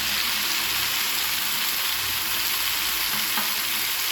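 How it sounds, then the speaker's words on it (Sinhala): Radish added to tomatoes cooking in a pan for a Sri Lankan tempered radish dish, producing a loud, continuous close sizzle and hiss with faint stirring scrapes and no voices. "දැන් මේ තක්කාලි මේ විදිහට තැම්බීගෙන එනකොට මේ රාබු ටික මේකට දාන්න."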